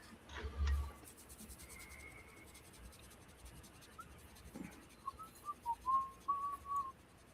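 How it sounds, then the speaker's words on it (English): Someone whistles a short, wandering tune in a quiet room, faint and close, with scattered clicks, taps and scratches from hobby work around it. "Undiscernible whistling,"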